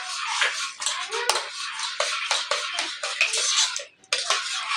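Kolhapuri-style pav bhaji mixed and mashed in a pan, giving a steady run of scraping and clattering utensil-on-metal strokes, fairly close, with no talking.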